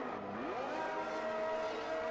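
An F1 car in the F1 2021 racing game, on soft tires on a wet Austrian track, revs up with a rising engine whine that settles into a sustained high note, steady and close without talk.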